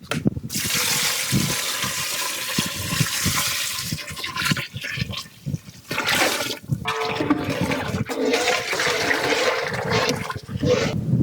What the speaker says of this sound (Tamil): கறியை வேக வச்ச தண்ணியை ஊற்றிக்கிறோம்ப்பா.